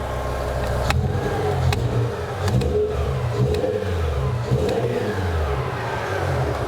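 A BMW E60 M5 with its S85 V10 engine, showing a check engine light for a mass airflow sensor fault, idles with a low steady rumble and swells into light revs nearby, with no talk.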